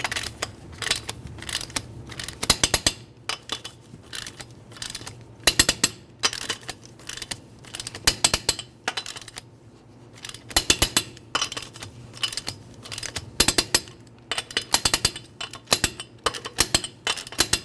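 A torque wrench tightens the wheel lug nuts on a Nissan Altima, giving repeated bursts of sharp metallic ratchet clicks separated by short pauses, close and fairly loud over a faint hum.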